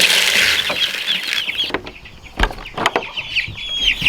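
Meat chickens cluck and chirp nearby in a busy chorus, with a few sharp knocks or flaps breaking through, and no talk.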